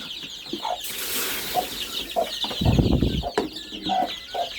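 Chickens and chicks cluck in short repeated calls, several birds close by in a yard, over a rustling background with a louder scuffling burst in the middle.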